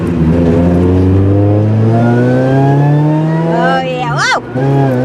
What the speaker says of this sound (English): We're going to take the car for a baseline drive right now and see where the boost tops out.